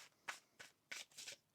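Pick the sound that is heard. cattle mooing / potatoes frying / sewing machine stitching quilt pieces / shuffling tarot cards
shuffling tarot cards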